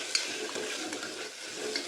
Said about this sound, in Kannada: ಅದೆಲ್ಲ ಫ್ರೈ ಆಗಿ ಎಣ್ಣೆ ಬಿಡಾಕತ್ತೈತಿ